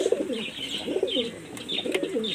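High-flying pigeons coo in repeated soft, rolling calls, close by and clear, with a few faint clicks and flutters between the phrases.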